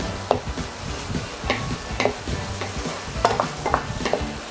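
Garlic added to tomatoes and onions sautéing in a pan, with a handful of close, distinct scraping and tapping strokes from a utensil over a low sizzle, with no speech.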